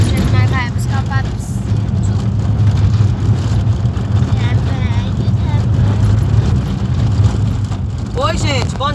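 A car's engine rumbles steadily and loudly from inside the cabin while driving toward a countryside farm, with voices talking over the drone and no clear rise in engine pitch.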